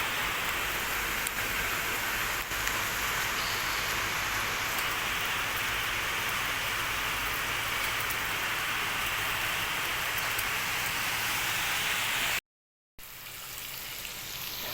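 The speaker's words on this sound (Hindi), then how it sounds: "बाहर हो रही है झमाझम बारिश, आंधी तूफान के साथ।" Steady, heavy rain with a storm hisses continuously, loud and close, with no voices; the sound drops out for a moment near the end, then resumes.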